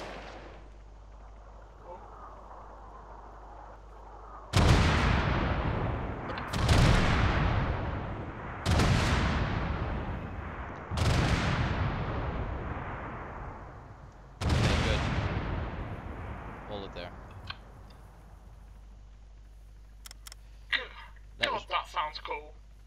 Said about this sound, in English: Yep, that was friendly mortars.